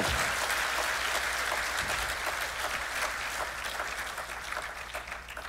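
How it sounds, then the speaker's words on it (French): Steady audience applause for a founder at a master class event, a sustained mass of clapping heard at moderate distance that slowly fades over about five seconds. "Mohsin Barada, vous pouvez l'applaudir très très très fort"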